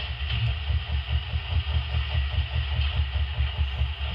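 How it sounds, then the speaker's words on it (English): Air compressor sound effect from a Broadway Limited RSD-15 model diesel locomotive, a steady low throbbing chug with a constant hiss above it, continuous and even throughout with no talking. "F4, compressor."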